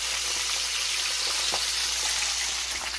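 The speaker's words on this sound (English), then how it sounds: "Gonna fry them up. Those are only gonna take a couple minutes. Got some hot grease here." Thin brook trout fillets frying in hot grease, a loud continuous hissing sizzle with faint crackles, steady from start to finish and no voices.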